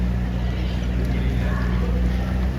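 A boat on the Ganges at Prayagraj during the Maha Kumbh gives a steady, close, low engine drone, with water and wind noise throughout and no pauses.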